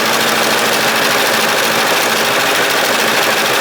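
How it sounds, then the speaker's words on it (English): A serger overlocks the knit fabric edges in one continuous fast mechanical whir, a steady close motor hum with rapid needle chatter running unbroken and fairly loud throughout. "the first thing to do is to serge every edge of this"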